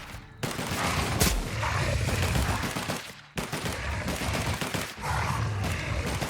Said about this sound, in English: I won't hesitate to open fire on it.